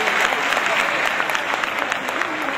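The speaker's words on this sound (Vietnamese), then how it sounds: "Xin các thầy cô các bạn một tràng vỗ tay nữa cho Liên Khúc Mở Màn của chương trình ạ." At a school performance program, an audience in a hall gives a sustained, dense round of applause after the opening medley, with faint voices under it.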